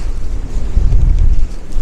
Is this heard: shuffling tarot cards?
no